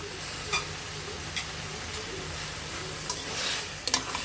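Spices fry in a pan for a sweet potato and tomato chutney, a continuous close sizzle broken by occasional sharp clicks and pops as they are stirred.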